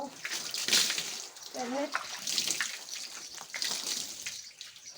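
Water running and splashing during a bath in hot weather, a continuous close watery rush with irregular splashes, as a person speaks briefly over it.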